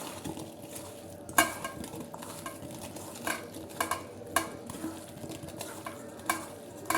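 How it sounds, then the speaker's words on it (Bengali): Hilsa fish pieces are worked by hand in mustard oil, giving soft, wet squelching and light clinking strokes that come in irregular bursts, close and fairly quiet. "এখন ইলিশ মাছগুলো মাখি।"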